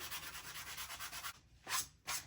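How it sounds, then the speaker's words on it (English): Rapid, even back-and-forth strokes of a sanding block scraping painted wood, then a pause and two slower, harder rubs, close and quiet. "I'm sanding right here on my desk"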